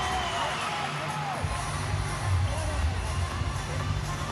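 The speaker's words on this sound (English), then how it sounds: "don't the crowd love it?" A netball crowd in an indoor arena cheers and roars, a broad swell of shouts and whistles with an energetic rise midway, mixed under an excited commentator's voice.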